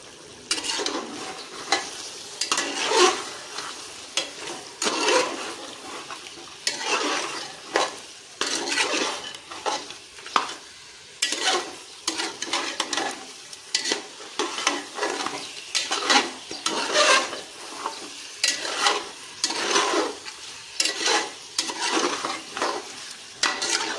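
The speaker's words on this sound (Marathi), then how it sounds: "आता हे चांगलं मिक्स करून घेऊया।" Chicken gravy being stirred in a pan after chutney and red chilli powder go in: continuous scraping and clinking of a spoon against metal over a soft sizzle, in irregular repeated strokes, close and moderately loud.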